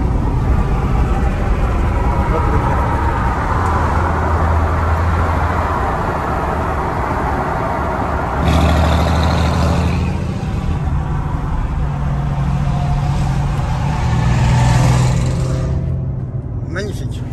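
A Mercedes C63 drives past outdoors at night, its engine noise surging loudly twice as it approaches and passes, over a continuous background rumble.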